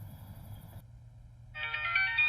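An outgoing phone call rings back with a tonal ringtone that starts partway through, loud and close after a quieter stretch of low hum and faint tones.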